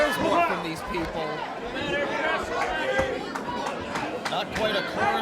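A wrestling arena crowd gives a mixed reaction with scattered boos, a restless murmur of chatter and shouts rising and falling at moderate distance throughout.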